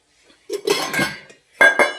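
A metal pot of water is set onto another cooking vessel, making a short metallic clatter followed by two sharper clanks, close and fairly loud.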